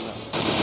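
MP40 submachine gun firing in the mobile shooter Free Fire, a dense, loud rapid-fire burst that swells abruptly partway through and runs without a break.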